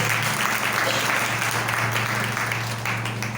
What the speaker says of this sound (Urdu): زوردار تالیاں خدا کے روح کے لیے بجاتے